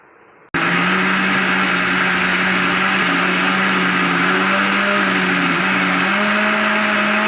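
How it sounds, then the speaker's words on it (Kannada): A kitchen mixer grinder starts abruptly and runs at a loud, steady whine while grinding masala with coconut, continuing alone without a break. "ಇದನ್ನು ಮಿಕ್ಸಿಗೆ ಇಟ್ಕೊಳ್ಳೋಣ."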